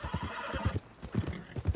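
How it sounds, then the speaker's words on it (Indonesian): A horse in the Red Dead Redemption 2 video game clops its hooves in a steady walking rhythm, and faint whinny tones rise above the footfalls, all close and clear with no talk. "Kita buat tenang dulu kuda kita ya guys."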